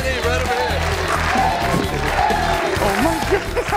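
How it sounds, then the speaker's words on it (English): Studio audience at The Big Spin game show cheering and applauding loudly and steadily for a winning contestant, a dense continuous wash of clapping and whoops, with a voice exclaiming over it. "It sounds like you got a few people cheering you on here today"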